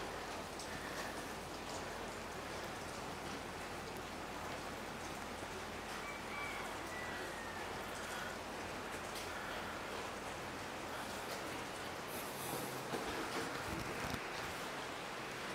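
Steady rain falls outside a house in Binh Tan, a dense, even hiss of drops hitting surfaces that continues unbroken throughout, with no voices.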